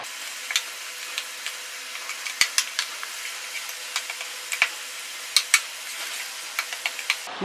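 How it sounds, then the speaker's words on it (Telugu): A metal ladle mashes cooked dal in a pot, giving a string of light, irregular taps and soft squelches, close and fairly quiet with no talking. "ఇది మిక్సీ పెట్టకుండా ఇలా గరిటతో మెత్తేస్తే మెత్తగా అయిపోతుంది"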